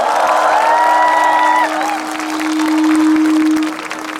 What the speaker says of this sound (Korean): 다시 한번 우리 김재동 씨에게 뜨거운 박수 부탁드리겠습니다.